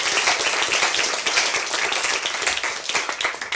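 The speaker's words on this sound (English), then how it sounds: "A round of applause for the question and answer" A room full of people claps after a question-and-answer session at a debate on the historicity of Jesus, producing dense, even applause that stays loud and continuous for several seconds without talk.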